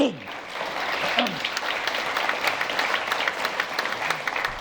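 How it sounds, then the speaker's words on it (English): Applause from a lecture audience fills the room steadily for several seconds, a dense, even patter of many hands at moderate loudness, with a brief voice near the start. "You shouldn't clap in advance, just in case you don't like it"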